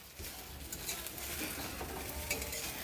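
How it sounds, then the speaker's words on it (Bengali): An egg fries in a pan on a home stove, giving a steady close sizzle with faint stirring scrapes throughout and no voices. "আমাদের ডিম ভাজা কমপ্লিট হয়ে গেছে"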